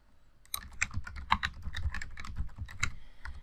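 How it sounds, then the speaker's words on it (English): Quick bursts of typing on a computer keyboard, a dense run of close, crisp key clicks after a brief quiet start, with no talking. "Let's scroll down and just type something real quick."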